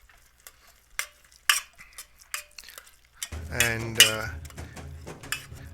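A metal ladle knocks and scrapes against a pot as cooked rice and dal are mashed, a few sharp clinks spaced apart, followed by a voice speaking up close.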